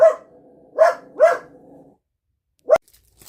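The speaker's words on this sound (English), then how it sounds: "I don't know why dogs have to bark when they see people a half a block away or a block away" A dog barks three times in quick succession, goes quiet for a moment, then lets out one more sharp bark, with nothing else audible around the barks.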